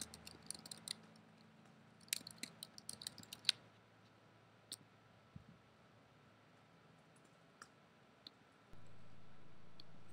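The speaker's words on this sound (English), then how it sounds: "I'm just gonna type it" Quiet, close clicks of a computer keyboard come in scattered short bursts, sparse and faint, in a quiet room before a low hum starts near the end.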